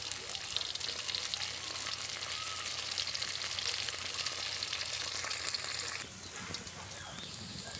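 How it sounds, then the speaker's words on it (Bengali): Gorgoriya pitha frying in hot oil, a steady dense sizzle with soft crackles throughout, fairly quiet and close, no voices. "অল্প অল্প করে ভাজার চেষ্টা করবেন, কারণ হচ্ছে না হলে একে অপরের সাথে আটকে যাবে"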